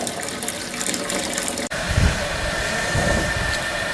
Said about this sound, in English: just gonna drain this and filter it, and we'll start the boil.